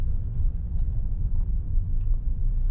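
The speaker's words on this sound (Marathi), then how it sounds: "आता टर्न येतोय, तर ह्या सेम स्पीडला मी टर्न नाही घेऊ शकत, म्हणून मी काय करणार, डाऊनशिफ्ट करणार, 4था गिअर ठेवला" A car in fourth gear after a downshift rounds a turn, its engine and road noise a steady low rumble heard from inside the cabin, close and continuous with no talking.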